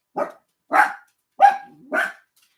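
Puppies bark four times in quick succession, each yap short and fairly loud, with a brief whine trailing the third bark and no voices.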